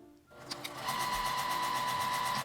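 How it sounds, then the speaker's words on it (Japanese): Sewing machine stitching along a folded fabric edge for a small handled shoulder tote bag starts up after a brief quiet moment, then runs in a fast, steady mechanical whir, close and alone. "端ミシンをかけます。"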